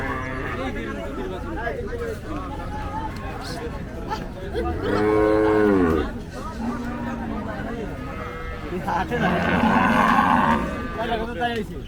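Cattle at the Ayodhpur village cattle market, two long, loud, close moos standing out over a continuous murmur of crowd chatter and voices talking.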